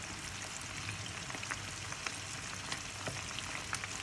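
Squid, anchovies and red mullet fry in hot oil a few pieces at a time, giving a steady, dense sizzle and crackle with scattered sharp pops throughout, close and continuous, with no voices.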